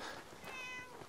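A cat meows once in Fallout 4, a short, faint, plaintive call heard alone.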